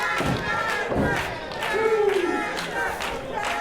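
A capacity crowd at a wrestling match roars and cheers in a steady wash of noise, while a commentator's voice speaks over it and a few thuds land near the start.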